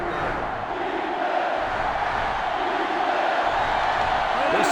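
Sellout stadium crowd in NCAA Football 2005, Tennessee versus 1988 Notre Dame, a steady loud roar of cheering and yelling that holds for the whole stretch without a break.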